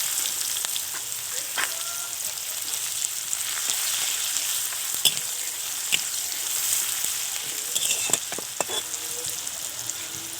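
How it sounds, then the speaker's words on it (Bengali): Chopped onion goes into hot oil already tempered with nigella seeds for a Bengali ash gourd dish, giving a steady close sizzle with scattered spatters and a few stirring scrapes, and no talking. "এবার আমি এর মধ্যে কুচিয়ে রাখা পেঁয়াজটা দিয়ে দেব।"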